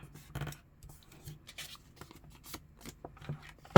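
Paper being handled and folded at close range: sparse, light crinkles, creases and taps over quiet background, ending with a sharper handling noise.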